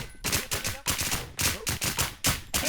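Rapid gunfire crackles loud and close in a shooting video game, coming in dense bursts of shots separated by brief gaps, with no talking over it.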